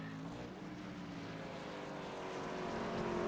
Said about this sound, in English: You can really hear that engine whining at the top of its rev range.